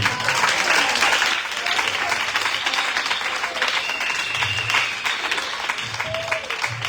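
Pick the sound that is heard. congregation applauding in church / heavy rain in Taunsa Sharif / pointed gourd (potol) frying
congregation applauding in church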